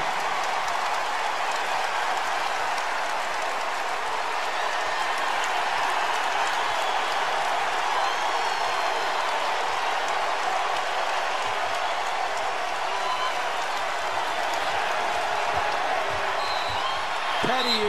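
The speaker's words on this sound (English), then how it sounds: "as this crowd was loud, as Quade Green now has a dozen after that corner 3" A loud college basketball crowd in an arena, Kentucky against Alabama, roars continuously after a corner three-pointer, a dense sustained cheer with a commentator talking over it.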